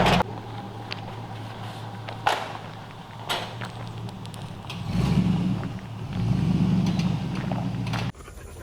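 An LS engine idles in an old abandoned Squarebody truck with a low, steady rumble that swells twice into heavier revs before cutting off sharply near the end.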